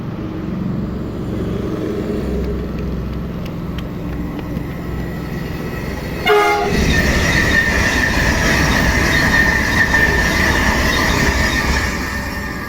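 A Whoosh high-speed train rumbles past on the acceleration section of track, loud and steady, then its wheels break into a sustained high-pitched rail squeal that carries on to the end.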